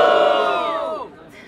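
A crowd at a rap battle semifinal in Botafogo cheers and shouts for a rapper, a loud dense roar of voices that fades out after about a second.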